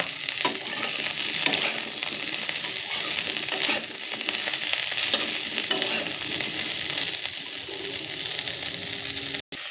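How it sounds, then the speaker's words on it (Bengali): Cauliflower pieces fry lightly in hot oil in a pan, giving a steady close sizzle with soft stirring scrapes, alone and unbroken until a sharp click near the end. "আমি এখানে হালকা করে ফ্রাই করে নিচ্ছি ফুলকপিটাকে"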